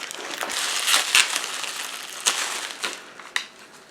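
Packaging around a water-damaged Nintendo Switch Lite crinkles and crunches up close as it is torn open, with several sharp crackling bursts and rustles over a few seconds.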